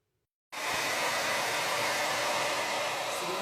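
A hair dryer fitted with a diffuser switches on abruptly after a moment of silence and blows with a steady, loud whooshing roar while drying curly hair.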